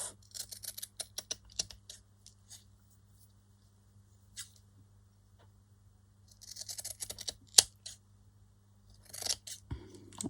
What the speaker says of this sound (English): I'm going to get my material scissors. I'll cut better with those.